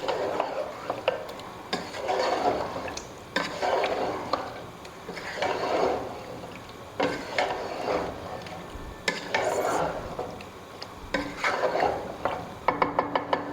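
Meat fries in a hot karahi on a stove for Balochi karahi, a continuous sizzle broken by repeated bursts of stirring and scraping of a utensil against the pan, fairly close, with no talk.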